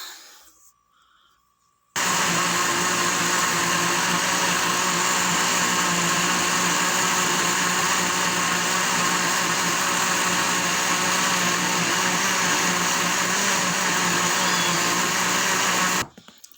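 A kitchen blender starts after a short quiet moment and runs continuously, a loud, steady whirring roar that holds nearly to the end before stopping.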